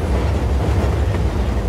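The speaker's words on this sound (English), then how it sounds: "I'm aboard the train. It's automated." An automated train rolls along its rails in the video game Just Cause 4, giving a steady, loud rumbling clatter with a low, throbbing undertone and no voices.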